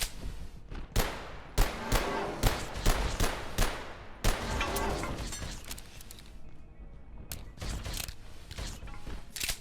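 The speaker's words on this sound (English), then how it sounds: "Alright, let's shoot him." Gunfire in Abiotic Factor aimed at an enemy: a string of sharp, separate close shots at an uneven rhythm, followed by quieter clattering and scattered impacts.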